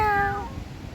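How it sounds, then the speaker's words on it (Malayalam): A cat approaching people on a quiet seashore gives a single clear, drawn-out meow that rings near and fades within about half a second, with soft background noise after. "ഇപ്പോൾ ഒരു പൂച്ച വന്നിരിക്കുക ഞങ്ങളുടെ അടുത്ത്."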